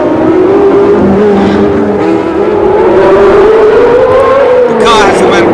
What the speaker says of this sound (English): V12 engine, it literally screams, this engine.